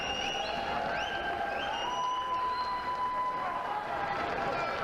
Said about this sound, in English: Regista has left the field to a rapturous round of applause.